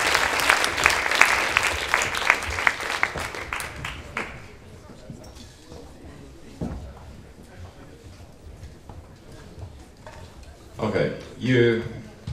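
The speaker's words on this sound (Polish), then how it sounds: "Jeszcze raz oklaski, dziękujemy," Audience applause at a Toastmasters Leadership Institute event: loud, dense clapping from a crowd for the first four seconds, then dying away into faint room noise and shuffling, with a brief burst of voices or clatter near the end.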